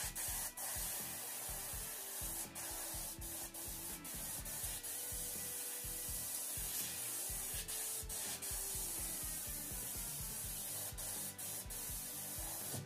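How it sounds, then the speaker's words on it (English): An airbrush hisses in a steady spray of white paint onto a hat, broken by brief pauses and short bursts, close up over a low hum. "let's go in here and start spraying that white"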